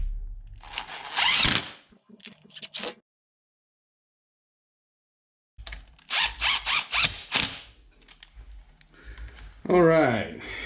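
A ratchet tightens motorcycle clutch cover bolts on a Yamaha FJ-09/FZ-09/MT-09 Tracer, quick bursts of clicking and mechanical rattling separated by a long silent gap, with a voice talking near the end.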